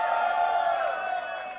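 Crowd at a live album launch party in Mumbai cheering and whooping, a bright sustained swell of voices that fades slightly toward the end, with someone speaking over it.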